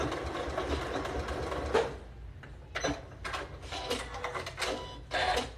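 A sewing machine runs a row of gathering stitches, a close mechanical hum with rapid needle clatter that speeds and slows in short bursts.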